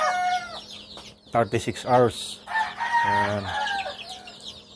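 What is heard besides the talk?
free-range chickens clucking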